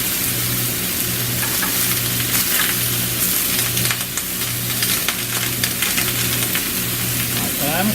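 Food sizzles and fries in a pan over medium heat, a steady crackling hiss with a faint rhythmic hum beneath it, close and continuous.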